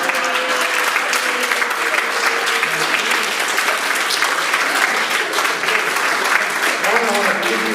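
Sustained audience applause at a magic show, dense and steady clapping from a full room that holds at even loudness throughout.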